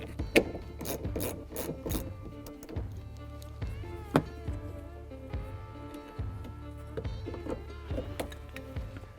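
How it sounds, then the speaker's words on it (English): A ratchet with a 15mm socket removing a hidden seat belt nut inside a 1997-2003 Ford F150 cab, giving close, uneven clicking and rubbing strokes over a low background hum. "we're gonna need to take that off with a 15mm socket"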